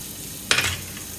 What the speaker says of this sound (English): just pour it on the tawa, just very little oil, about half a teaspoon or less than that also, and add the paneer over there